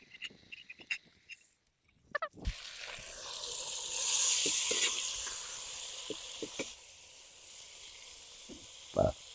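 Ingredients for chicken haleem hit a hot pan and break into a steady hissing sizzle that swells and then settles, with a few clinks of a utensil, close and fairly loud.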